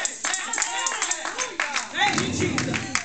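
Congregation clapping hands at a gospel church service, a rapid broadband patter of many hands running throughout over loud preaching and shouted voices, swelling into fuller crowd noise near the end.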